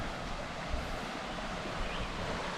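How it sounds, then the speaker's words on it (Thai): Water from the Khlong Lan waterfall streams past in a steady, broad rush, close and moderately loud, mixed with wind buffeting the microphone and no talk. "นี่เป็นน้ำที่มันไหลมาจากน้ำตกคลองลานนะครับ"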